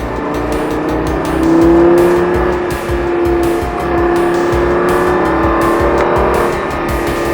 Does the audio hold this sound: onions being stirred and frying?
no